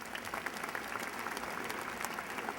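Graduation ceremony applause at UNC Charlotte honoring university staff, a faint, steady patter of many hands clapping in a large hall, continuous through the whole stretch.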